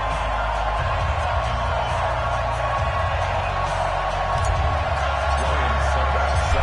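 Stadium crowd in an EA Sports NFL game between the Pittsburgh Steelers and Buffalo Bills, a steady loud murmur of cheering fans with low rumbling underneath, continuous throughout.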